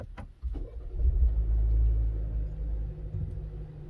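A Kia K5 1.6 turbo engine cranks and catches, then settles into a steady low idle rumble with a faint gravelly edge, heard close and alone.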